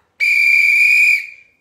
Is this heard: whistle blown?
yes